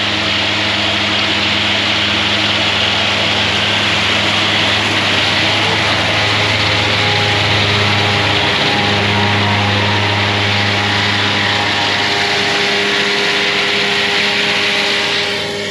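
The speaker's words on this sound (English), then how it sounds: "Makes a hell of a racket, them mowers." Farm mowers work a crop field, a loud, continuous engine drone with a steady low hum and broad mechanical roar throughout.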